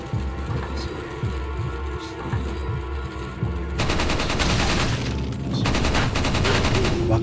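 Rapid automatic gunfire rattles loudly in Resident Evil 4 on GameCube, the bursts growing denser and louder in the second half over a steady game background.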